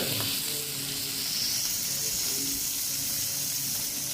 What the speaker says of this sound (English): This is the sofrito, no, David? That's the sofrito